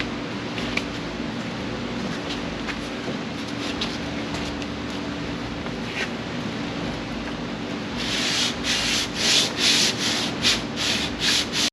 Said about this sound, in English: We switched over to hand sanding since we got the biggest part of the block sanding done